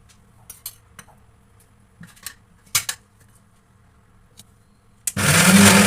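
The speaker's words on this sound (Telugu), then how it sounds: "ఇప్పుడు ఇందులో 1 టేబుల్ స్పూన్ ఆయిల్ వేసుకొని మిక్సీ వేసుకోవాలి." A few scattered clicks and taps give way to a mixer grinder switching on at full power, loud and whirring, as it blends homemade Nutella ingredients with a tablespoon of oil.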